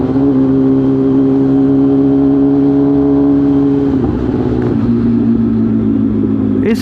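A Kawasaki ZX-10R motorcycle cruises along a Lahore road with a loud, steady engine drone and rushing road noise, its pitch dipping briefly partway through as the rider eases off, with no talking.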